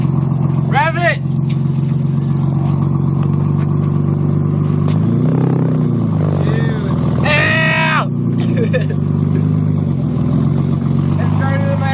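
A Datsun 280Z's engine revs through its exhaust, a loud, steady low drone that swells with throttle blips, while several people talk and shout excitedly over it.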